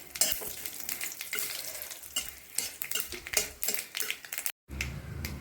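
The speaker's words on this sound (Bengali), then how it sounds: "তেলটা গরম হয়ে গেছে, দিয়ে দেবো এখন ফোড়নের লঙ্কা আর" Dried red chillies and mustard seeds hit hot oil for a tempering and crackle and sizzle loudly, broken by sharp clinks and scrapes of a spoon stirring against the pan, with a brief gap near the end.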